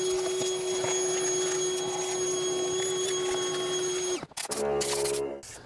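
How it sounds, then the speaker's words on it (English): A shop vacuum runs steadily with a high whine while cleaning out the engine bay of a Ford F150 with a 5.4 engine, loud and close, then cuts off abruptly near the end, leaving clanking sounds. "We'll vacuum it out really well."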